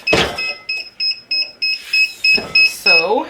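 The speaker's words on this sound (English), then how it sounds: "my timer is going off" Heat press timer going off during shirt sublimation, a string of about eight rapid, evenly spaced high electronic beeps, with someone talking briefly at the start and end.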